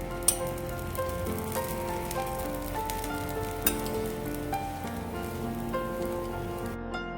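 Amboli batter sizzling on a pan after a little oil is drizzled over and around it: a steady, crackling hiss beneath sustained background music, with a couple of sharp ticks.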